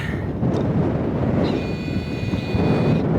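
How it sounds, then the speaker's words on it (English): Strong wind buffeting the microphone on an icy mountain summit, a steady loud low roar with gusty rumble throughout and a faint high whistle partway through, no voices. "There's the wind."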